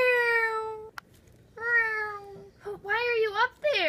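A voice imitates a cat, giving several drawn-out meows close up, their pitch gliding up and down between brief pauses.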